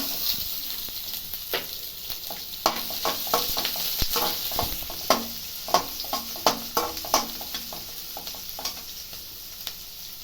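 Crushed garlic frying in a pan with dried red chillies, a steady close sizzle broken by sharp crackles and pops, with a few stirring scrapes and no talking.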